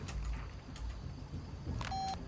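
A phone ringing in Far Cry 2 gives off a brief steady electronic tone near the end, over low background rumble and a few soft clicks.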